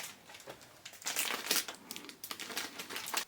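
A plastic Ziploc bag crinkles up close, starting with light rustles and then building into bursts of loud crackling handling.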